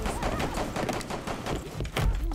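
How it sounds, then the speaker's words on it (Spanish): Gunfire in the video game Rainbow Six Siege, rapid bursts of shots crackling close and fairly loud, with a heavier blast near the end. "Me están reventando ahí al oso a tiros."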